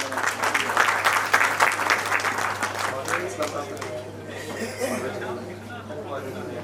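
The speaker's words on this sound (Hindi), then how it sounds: "बहुत जोरदार तालियां उनके लिए बजा दें।" Applause from the audience at the 52nd Saifi Day book launch, dense clapping loud at first then thinning out after a few seconds, with a voice and some chatter underneath.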